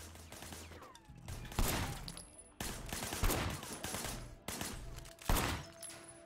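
Rapid bursts of gunfire from the video game Sleeping Dogs, several loud fusillades in quick succession with short gaps between volleys, firing from behind a barricade in a shootout.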